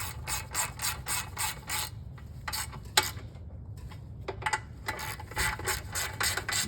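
Ratchet clicking in quick repeated bursts while tightening the ignition coil bolts on a snowblower, crisp and close, with brief pauses between runs of clicks.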